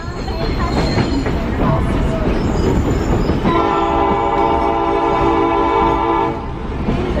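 A tourist train on the Hobo Railroad in Lincoln, New Hampshire rumbles and rattles loudly, then a long, steady whistle blast sounds for about three seconds over the rolling noise.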